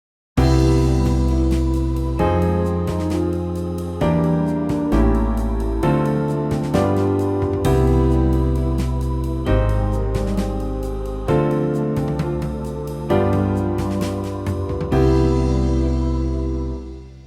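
A chord progression built with modal interchange chords plays as sustained harmonic chords, each changing every couple of seconds in a steady sequence, loud and alone with no talking.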